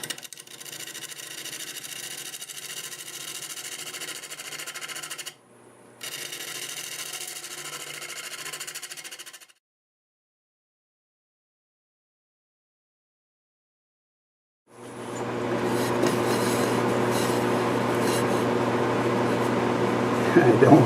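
A wood lathe spins at 825 RPM while a freshly sharpened 1/2-inch bowl gouge cuts a turning, a steady motor hum that stops briefly, then returns louder with a rough scraping cut after a silent gap.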